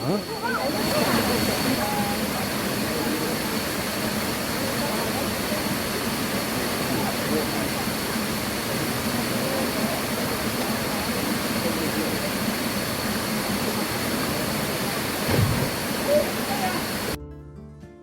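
A steady, dense roar of rushing water, loud and continuous throughout, from Kuang Si Falls near Luang Prabang, Laos, close by.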